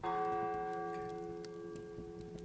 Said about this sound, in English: The bell has tolled 1, just as Jacob said.